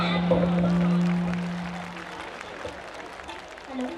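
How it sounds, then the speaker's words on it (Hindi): An audience at a college cultural fest claps for young child performers, a sustained patter of applause that fades a little toward the end, with a brief tonal sound near the start. "एक बार इन नन्हे मुन्ने सितारों के लिए जोरदार तालियां बजाएं"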